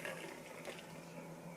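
A yeast and sugar mixture poured into a bowl for bread dough, a soft, brief trickle of liquid heard close and quiet, with no talk.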